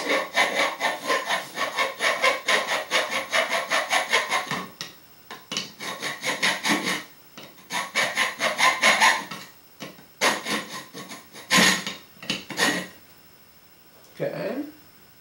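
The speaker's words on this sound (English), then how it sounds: "the cutout might cause a problem, so we start filing" Hand-filing a cutout on a metal 3D printer base: quick rhythmic rasping strokes in bursts, close and loud, with short pauses between runs of strokes.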